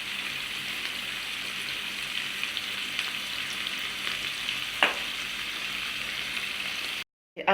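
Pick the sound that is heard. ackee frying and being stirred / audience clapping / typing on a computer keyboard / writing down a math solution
ackee frying and being stirred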